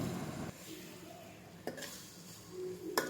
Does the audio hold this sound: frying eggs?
yes